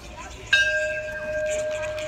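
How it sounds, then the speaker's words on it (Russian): A bell rings out once with a clear, sustained metallic tone that hangs and slowly fades, over faint background noise. "Хватит уже стучать в колокола."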